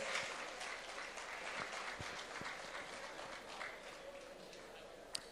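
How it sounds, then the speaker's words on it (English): An audience at a Nigerian economic development lecture applauds a senator's award, a steady, faint wash of clapping heard from a distance for several seconds. "A round of applause."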